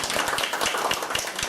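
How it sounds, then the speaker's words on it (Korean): Brief round of applause from a small group at a fintech roundtable meeting, a quick patter of claps alone in a room. "그 박수 한번 쳐주시고"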